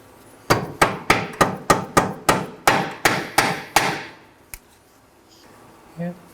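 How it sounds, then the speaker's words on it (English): A hammer taps a front lower control arm ball joint on a 2013-2019 Nissan Sentra, about a dozen sharp, evenly spaced metallic strikes close by, then one lone tap and a brief faint clink. "Sometimes you have to tap with the hammer again."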